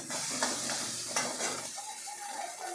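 Crab pieces with turmeric sizzle in hot oil in a pan while being stirred, close scraping strokes over the frying hiss before it settles into a quieter sizzle.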